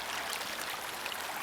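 A small creek in Kentucky flows steadily in a continuous close rushing wash with no breaks and no voices.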